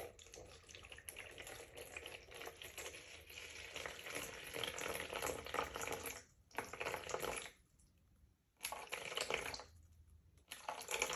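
Water pours steadily into a coffee percolator in a running, splashing stream, stops briefly twice and then resumes, fairly faint and without talk.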